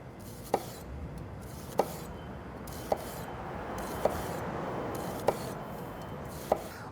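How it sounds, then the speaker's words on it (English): A knife thinly slices half of a large red onion on a board, six crisp evenly spaced cuts at a slow steady rhythm, close and clear with a soft scraping between strokes. "Start with half of a large red onion, and I'm going to slice this pretty thin."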